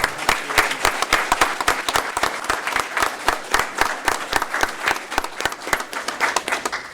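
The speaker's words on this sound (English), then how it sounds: "let's do a round of applause" A crowd at a board meeting claps for teachers, with loud, fairly rhythmic applause from a modest audience, individual sharp claps standing out in a steady pattern for several seconds.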